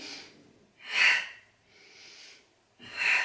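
Close, audible breaths during an abdominal exercise, with two strong sharp inhalations alternating with softer airy exhalations, steady and paced with no talk.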